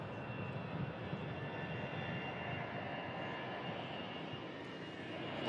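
An Airbus A319 jet airliner climbs out after takeoff, its engine noise a steady, faint broadband roar heard from a distance and holding level throughout.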